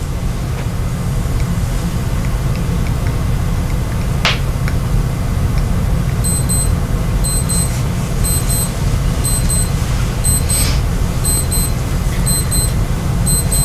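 A wristwatch alarm beeps in repeated short high double-chirps during the latter half, faint and steady over a constant low rumble of room or engine noise.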